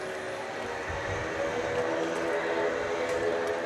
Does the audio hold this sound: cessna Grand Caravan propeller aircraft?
yes